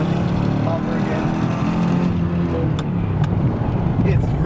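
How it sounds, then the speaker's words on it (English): Mercedes E55 converted to a manual gearbox drives along with a steady, loud engine drone that shifts in pitch as it downshifts, with a voice talking over it. "You can downshift gears, go into third gear, go into second gear,"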